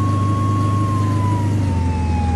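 Ambulance siren in the Flashing Lights driving game, a steady wailing tone sliding slowly downward over a loud, constant engine drone, close and continuous with no talking.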